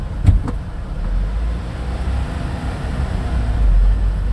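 A manual-transmission car pulls away from a standstill using the accelerator-first start, its engine held near 2000 rpm before the clutch engages; a steady, close engine rumble runs throughout, with a brief louder surge near the start and again toward the end.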